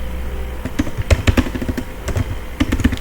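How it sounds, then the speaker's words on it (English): Quick bursts of typing on a computer keyboard, near and clear, with irregular clusters of key clicks and short pauses between them while a password is entered on a network switch console. "I'm just typing the unencrypted password"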